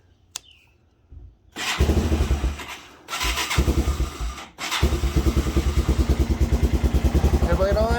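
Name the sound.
Yamaha 225DR motorcycle engine starting and running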